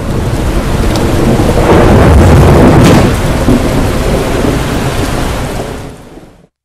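Heavy rain pours steadily in Thoothukudi district while deep thunder rolls through it, loud and close, building to a peak midway before easing, with no voices.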